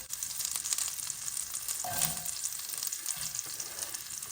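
Onions frying in hot oil for a vegan dabeli burger, a steady close sizzle with faint clatters of stirring partway through, no voices.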